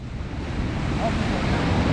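Ocean waves wash steadily onto a Barcelona beach, a continuous broad surf rush mixed with wind buffeting the microphone, fairly loud and close.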